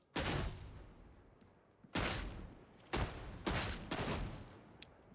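Heavy shotgun slug blasts in the Warhammer 40K: Darktide video game, four or five loud booming shots spaced about a second apart, each with a sharp crack and a rolling decay.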